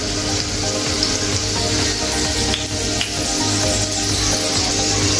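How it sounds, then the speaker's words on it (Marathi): Garlic fries in a pan with a steady, loud, continuous sizzle for the whole stretch, with no talk over it. "आता आपलं लसूण छान असा फ्राय झालेला आहे"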